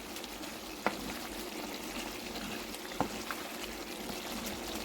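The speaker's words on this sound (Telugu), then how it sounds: "మనం ఒకసారి తిప్పుకొని మళ్ళీ సిమ్లో పెట్టుకొని ఉడకనిద్దాం" Curry simmering in a pot over low heat, cooked the old-fashioned way, gives a steady soft bubbling hiss, with two or three sharp clicks of a spoon stirring against the pot.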